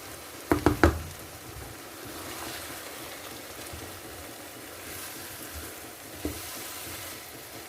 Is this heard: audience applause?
no